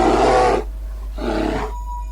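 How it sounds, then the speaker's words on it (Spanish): Deep animal roar in a scary night story, two loud drawn-out growling bursts separated by a short pause, heard alone without talk. "Luego de unos instantes se escuchó un rugido."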